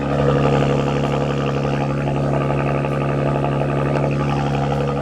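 A loud, deep exhaust rumble from a Porsche Cayenne E-Hybrid Coupe in sport mode holds steady and close, a continuous throaty drone with no voices.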